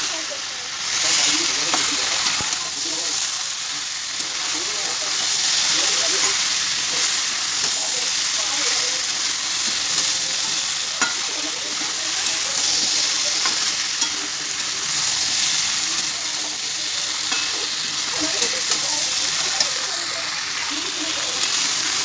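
Vegetables frying and being stirred in oil with fried hilsa fish heads, a loud continuous sizzle and hiss with occasional spoon scrapes, close up and steady for the whole stretch.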